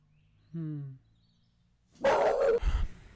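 Dogs bark at a distance indoors: a short tonal yelp, a pause, then a louder burst of harsh barking and scuffling noise.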